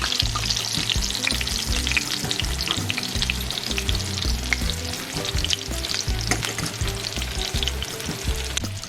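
Thin slices of pork loin deep frying in hot oil give a steady, dense sizzle and crackle that holds close and loud throughout, with no voices.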